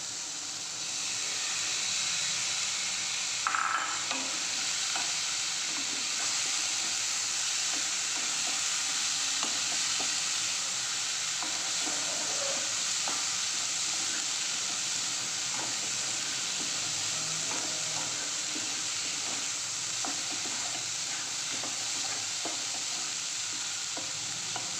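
Lentils fry in a pan with a soft, steady sizzle and hiss that runs unbroken for about twenty-five seconds, punctuated by faint stirring scrapes, fairly quiet and with no one speaking.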